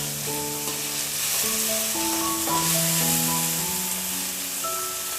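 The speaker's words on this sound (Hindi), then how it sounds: "अब हम इनको अच्छे से मिक्स कर देते हैं।" Chopped tomatoes sizzle steadily as they are stirred and mixed in a hot pan for a potato dum biryani masala, a continuous bright hiss with a soft melodic tune playing over it.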